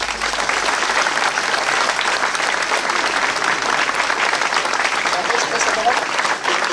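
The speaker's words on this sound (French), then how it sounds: "on les applaudit bien fort." A crowd at a public gathering claps loudly and steadily, dense uninterrupted applause filling the space at close range.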